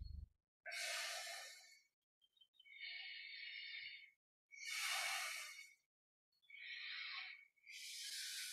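Deep breathing during guided meditation: slow, audible inhales and exhales alternating in a steady rhythm, close and quiet, with pauses of silence between breaths.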